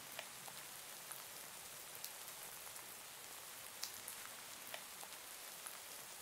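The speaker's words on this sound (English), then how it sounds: "we just gotta wait for the rain to stop" Faint, steady rainfall in the video game Minecraft, a soft continuous hiss dotted with scattered sharp raindrop ticks, no voices.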